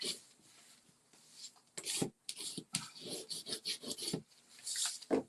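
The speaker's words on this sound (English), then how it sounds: "Let's burnish this and get a good" Inked paper is burnished by hand in a stamping craft, a close, dry rasping rub repeated in quick back-and-forth strokes with brief pauses between them.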